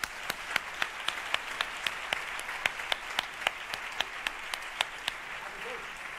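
Audience applause at a film festival opening gala in Málaga, a fairly quiet, steady patter of many hands clapping with sharp individual claps standing out, heard from a distance throughout.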